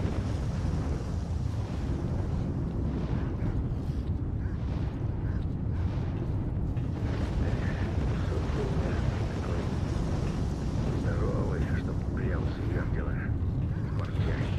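A steady, dense low rumble of an emission blowout in S.T.A.L.K.E.R. Call of Pripyat fills the whole stretch, loud and continuous like roaring wind, with faint speech and scattered in-game noises over it.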